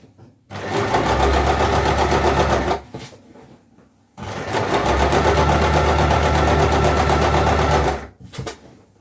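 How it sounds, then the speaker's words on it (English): A sewing machine stitches a pocket in two loud, steady runs of rapid mechanical whirring, separated by a short quiet pause and ending with a brief final burst. "You can decide to keep sewing"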